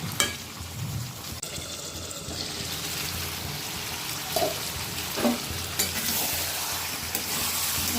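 Chopped tomatoes and green chillies stirred and fried in oil for a bhetki fish curry, a steady close sizzle with occasional spoon knocks and scrapes against the pan, no speech.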